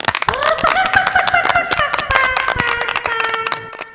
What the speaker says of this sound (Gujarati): તાળીઓ વગાડો, તાળીઓ વગાડો.